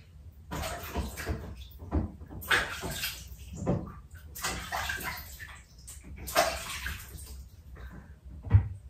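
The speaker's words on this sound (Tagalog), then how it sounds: "We're washing Zayla's hair." Water splashes and gushes in repeated bursts in a bathtub while a child's hair is washed, with some dull knocks in between. The sounds are fairly close and there is no talking.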